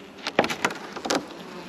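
Honey bees buzz around an open nuc hive, several individual bees passing close by in short, bright drones against a faint background hum.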